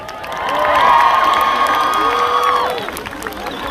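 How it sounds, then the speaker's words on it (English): Outdoor crowd at a Palestine protest in Manchester cheering and clapping, loud whoops and shouts swelling over the first few seconds then easing, with scattered claps and voices in the mix. "one big round of applause to everybody here today"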